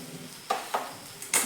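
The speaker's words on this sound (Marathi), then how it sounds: "शिजते बघा ही भाजी. बघा हलवून घेऊयात आपण." Hadga flower vegetable cooking in a pan as it is stirred, with a soft steady sizzle broken by four short scraping strokes of a spatula, close and quiet.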